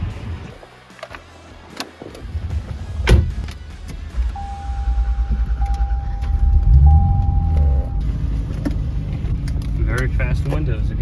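A 1990 Chevrolet Corvette ZR1's power window motor whirs steadily for a few seconds inside the cabin, with a soft tonal hum and faint jingling earlier.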